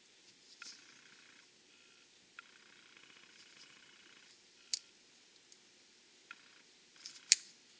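Wires of a Mustang ignition harness being cut, quiet snips with small clicks and light handling noise, then two sharper louder cuts near the end, close and with no speech.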